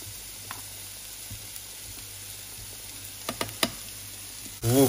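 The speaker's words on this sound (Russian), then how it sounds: "выкладываем лук и обжариваем до золотинки" Onions fry in a pan with a constant soft sizzle, a few light knocks of a utensil, then a louder burst of sizzling at the very end.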